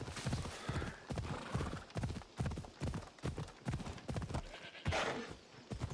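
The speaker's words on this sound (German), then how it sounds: "Trab kehren wir zu Leila zurück." Horse hooves trotting in a steady clip-clop rhythm in the Assassin's Creed Odyssey video game, fairly close, with a brief whinny-like sound and some game ambience around it.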